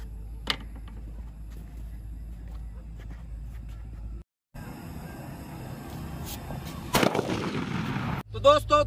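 Diwali patakha toy gun firing: a sharp crack near the start, then after a brief gap a loud burst of bangs and crackle, with background noise throughout.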